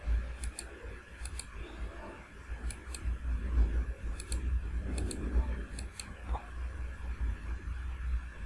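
A computer mouse clicks repeatedly while shapes are selected in Cabri 3D geometry software, quiet sharp ticks in small groups of two or three, over a low background hum.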